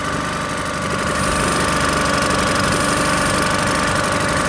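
A sailboat's engine idles near Wells-next-the-Sea, a steady, close, throbbing mechanical rumble that runs unbroken throughout with no speech.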